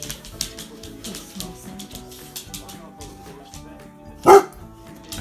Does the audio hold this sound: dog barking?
yes